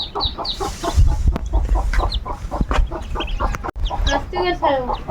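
A hen with a brood of newly hatched chicks and ducklings: high, rapid peeping from many young birds mixed with the hen's low clucks, close and continuous.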